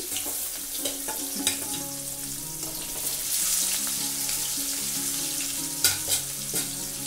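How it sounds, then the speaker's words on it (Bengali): Rohu fish pieces rubbed with salt and turmeric fry in oil with a continuous dense sizzle and crackle, punctuated by a few clicks and knocks of a utensil against the pan, no talking. "রুই মাছগুলো এবার ভালোভাবে ভেজে নেব"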